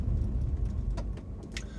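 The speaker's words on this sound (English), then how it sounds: "I'm pulling over to let a car pass because he looks like he's in a hurry." A car passes on the road beside another car that has pulled over. It is a steady, close low rumble with a few brief higher swishes toward the end, and no one speaks.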